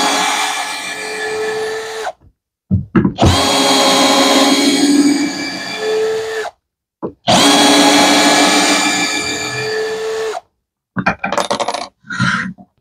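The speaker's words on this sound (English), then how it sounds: "it has plenty of power to sink those screws in and recess them" A power drill drives screws and recesses them, in long loud whirring bursts of several seconds with short pauses between, finishing with a few brief stuttering pulses.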